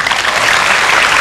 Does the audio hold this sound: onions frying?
no